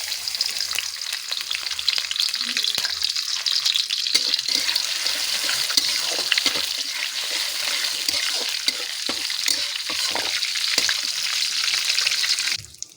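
Oil, ghee and butter heating in a pan to temper raw jackfruit give a loud, steady, close sizzle that runs unbroken for about twelve seconds, then cuts off abruptly.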